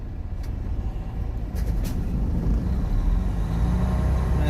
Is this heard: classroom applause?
no